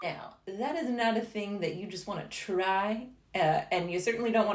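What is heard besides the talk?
No everyday noise stands out behind the speech.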